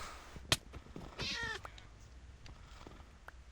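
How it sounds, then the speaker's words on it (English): A cat in the video game Minecraft lets out one drawn-out meow, close and clear, among sharp blocky game clicks and thumps, followed by quieter scattered game noises. "Evil cat!"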